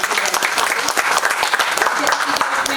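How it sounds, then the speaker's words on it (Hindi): An audience at a seminar of the India-Tibet cooperation forum in Shahdara, Delhi, bursts into brisk, loud clapping with sharp hand-claps throughout, while a voice speaks over it. "एक बार जोरदार तालियां हमारे"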